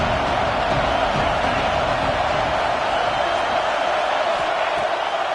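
Stadium crowd roar from a college football video game, Notre Dame against Georgia, a steady loud wash of cheering that holds through the whole stretch with faint whoops rising from the mass.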